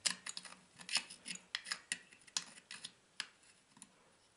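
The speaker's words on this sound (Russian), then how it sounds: "разводной ключик, ну самый маленький." A small adjustable wrench works on the muffler studs of a Huter BS 45 chainsaw, giving faint, irregular metallic clicks and ticks close by, with no voices.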